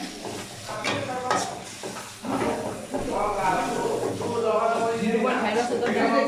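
Spices with cumin and bay leaf frying in a pan, giving a steady sizzle with stirring scrapes, partly under a person talking throughout.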